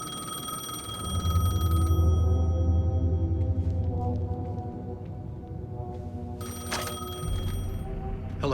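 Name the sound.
telephone ringing in Alan Wake 2 video game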